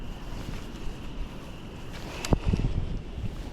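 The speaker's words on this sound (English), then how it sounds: "The wind is just getting absolutely unbearable out here." Strong wind blows across a lake during a fishing trip in early March, a constant rumbling buffet against the microphone with a brief thump and rustle near the end.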